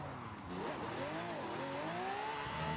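A Lamborghini Huracan EVO in Forza Horizon 5 revs hard under full throttle, engine pitch climbing and dipping through gear changes in a fairly quiet, continuous run.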